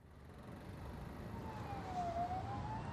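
A police siren sound effect wails in the distance in a beat intro, its pitch sliding up and down over a low rumbling city ambience.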